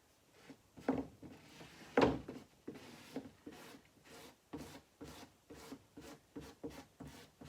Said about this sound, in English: And then again, take our squeegee.